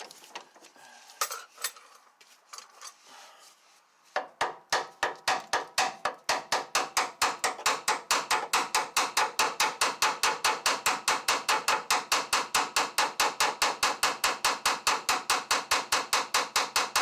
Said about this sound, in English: A couple light taps ain't gonna hurt anything.